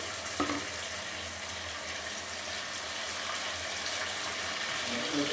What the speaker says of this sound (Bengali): আমি এবার জলটা অ্যাড করে দেব